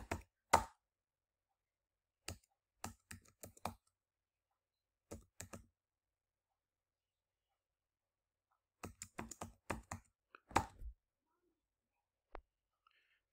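Computer keyboard typed in short bursts as a command goes into an Ubuntu Linux terminal, with clusters of crisp, close key clicks separated by pauses and a single soft tap near the end.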